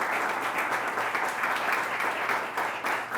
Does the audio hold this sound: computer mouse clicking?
no